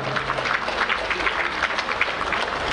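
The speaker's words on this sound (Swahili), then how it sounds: "Naomba tuwapigie makofi mengi sana." An audience at the opening ceremony of the 46th Sabasaba international trade fair claps for the children, producing a dense, steady applause that continues without a break.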